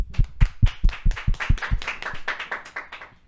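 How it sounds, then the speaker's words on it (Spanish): Clapping as a guest is sent off: about a dozen sharp, distinct hand claps in a quick rhythm, strong at first and then blurring into softer, faster clapping that fades. "te despedimos con un fuerte aplauso"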